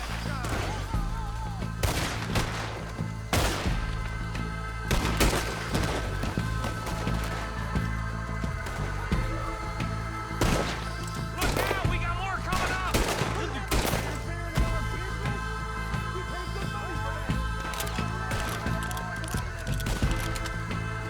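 Dense gunfire in Red Dead Redemption 2, repeated loud shots and bursts crackling across the whole stretch over a constant music and ambience bed.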